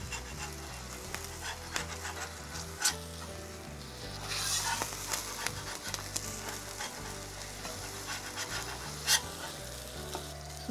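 Burger buns cook on a hot griddle for a copycat crust burger, giving a steady close sizzle with occasional scraping and light knocks, no talking.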